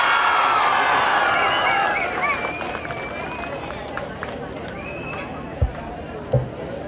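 Crowd at a college sports day bursts into applause and cheering, loud and dense at first, then thinning into scattered clapping and background murmur.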